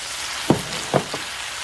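A soft, steady sizzle of onion and eggplant frying in a pan for a rice dish, broken by two brief clunks from stirring or food landing.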